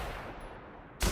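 A gunshot rings out in The Outer Worlds video game, a single sudden loud blast at the very end after a short stretch of quieter hiss.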